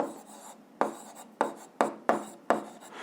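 A pen writes on paper up close in quick separate scratchy strokes, about six short bursts in a few seconds in a quiet room.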